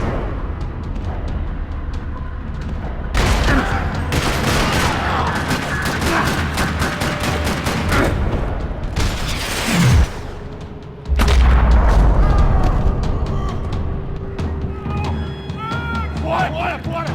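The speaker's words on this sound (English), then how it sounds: "Another parking lot rattling with gunfire." Gunfire rattles through a parking lot in the video game Max Payne 3, with rapid bursts of shots, heavy booms and a loud blast near the middle, mixed with game dialogue and effects throughout.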